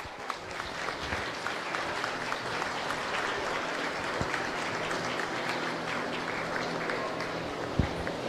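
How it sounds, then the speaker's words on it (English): An audience at a county fair 4-H/FFA livestock auction applauding for a Hall of Fame induction, a dense, steady clapping that carries through to the end, with a few louder claps standing out. "Can we give them a round of applause?"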